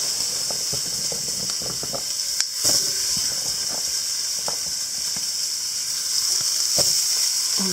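Roughly chopped onions fry in a pan for a sweet potato and pumpkin soup, giving a continuous close hiss and sizzle with scattered small pops and a few light knocks, no one speaking.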